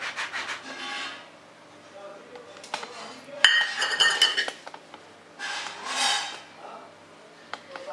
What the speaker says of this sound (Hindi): मैंने चॉपिंग बोर्ड के ऊपर एक ब्रेड की स्लाइस ली है और स्लाइस को हम ऐसे कटोरी की सहायता से राउंड शेप में कट करेंगे